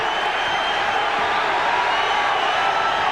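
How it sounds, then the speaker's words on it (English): A boxing arena crowd roaring steadily for hometown favorite Jesse James Leija during a 1992 bout against Troy Dorsey, a dense, continuous wash of cheering and shouting heard from within the venue. "The crowd responding to the hometown favorite, Jesse James Leija, with 1 minute remaining in this 5th round"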